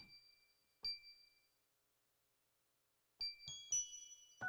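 Recorded bells ring in short bright strikes: a couple of clear tones at first, a pause of silence, then a quicker cluster of overlapping chimes with ringing sustained pitches, close and fairly soft.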